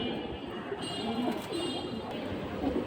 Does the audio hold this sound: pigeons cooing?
yes